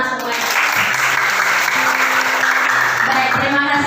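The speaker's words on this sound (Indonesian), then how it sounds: "Iya, tepuk tangan semuanya" Applause from a class during a Christian religious education lesson fills the room, a dense steady wash of clapping with a low sustained hum or tone running beneath it throughout.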